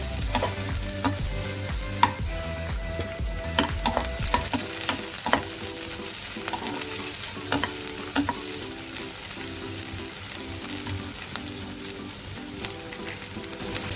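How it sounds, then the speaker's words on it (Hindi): Onion and capsicum sautéing in a pan for chilli potato, a constant close sizzle with frequent scraping strokes of a spatula and metallic clinks, steady with no talking. "प्याज, शिमला मिर्च, अब इसको हल्का सा सौटे करेंगे"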